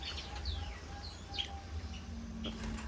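Pied Java sparrows chirping in a breeding setup, a few short high chirps and tweets scattered over a steady low background hum, with no one speaking.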